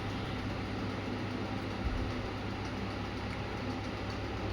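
Constant low rumble and rattle from inside a moving train carriage, steady and unbroken, with no one talking.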